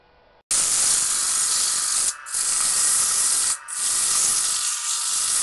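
Loud, continuous abrasive hiss of sandpaper working a turned red oak bowl on a lathe, broken by two brief pauses as the sander lifts away.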